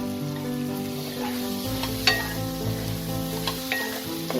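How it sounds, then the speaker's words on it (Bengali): Fried potatoes tossed into a sizzling spice masala in a pan make a steady crackling fry with a low background hum and occasional sharp spatula clinks, close up and with no speech. "এবার আমি এতে ভেজে রাখা আলুগুলোকে অ্যাড করে দিলাম।"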